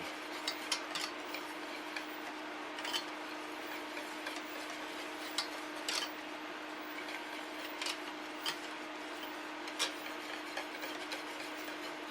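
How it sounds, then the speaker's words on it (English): A spoon stirs melting cheddar through macaroni in a pan, giving soft scraping and light clinks of metal against the pan, a steady low ticking rhythm with occasional sharper taps, fairly faint, with no voices. "just stir it thoroughly to get it all mixed in there real good, nice and creamy"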